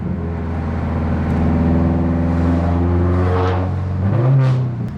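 Turbocharged car engine fitted with an external wastegate revs and accelerates, heard from inside the cabin as a loud, steady drone that climbs in pitch and swells near the end.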